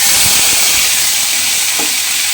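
Ginger and green chili paste hitting hot salted oil, a loud, dense, steady hiss of frying with a few soft stirring knocks underneath.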